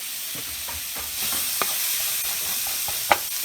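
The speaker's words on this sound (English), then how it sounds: "And we'll put this in the pan. Onion, go in the pan." Chopped onion sizzles steadily in a hot frying pan, the continuous hiss swelling as it is stirred, with a couple of sharp spatula scrapes and clicks against the pan; close and fairly loud, no talking.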